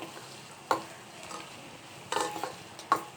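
Homemade sembaruthi (hibiscus) herbal hair oil boils and froths in a pan with a soft, steady bubbling hiss, broken by three sharp scraping clinks of a spoon stirring against the pan.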